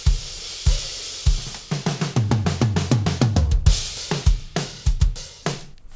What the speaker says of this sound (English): It's just the tom-toms flat with them coming through the overheads together